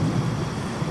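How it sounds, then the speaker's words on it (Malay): Heavy rain pours steadily with a low rumble of thunder and wind, a dense, continuous storm roar filling the whole second with no voices. "Hujan lebat beserta angin kencang menerpa bumi."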